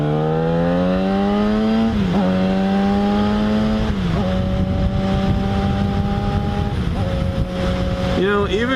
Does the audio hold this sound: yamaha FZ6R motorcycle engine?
yes